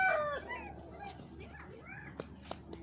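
A goose call sound effect from a children's animal-learning cartoon: a single harsh, honking cry at the very start, followed by quieter bird-like chirps and squawks over a faint background.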